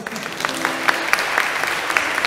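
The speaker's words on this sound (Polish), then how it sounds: "brawo dla nich!" Applause from an audience for a children's band at a church worship event, a steady wash of clapping with a few louder individual claps popping through, lasting the whole moment.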